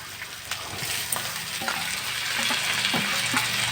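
Washed masoor lentils tip into hot oil with browned onions, bursting into a loud, steady sizzle with stirring scrapes and crackles, close by and alone.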